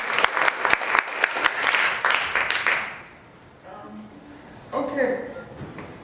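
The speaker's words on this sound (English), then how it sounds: "So if we can give her a round of applause." Audience applause for a poet, a burst of claps that fades out within about three seconds, followed by quiet room noise and a voice speaking near the end.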